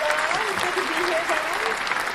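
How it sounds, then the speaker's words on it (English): Studio audience applause for a guest's entrance on a live show, a steady dense wash of clapping with a voice calling out over it throughout. "Let's go ahead and give a round of applause for the one and only"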